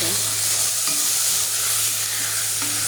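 Chicken fries with sugar in a pan, giving a loud, continuous sizzle with stirring scrapes throughout and no talk.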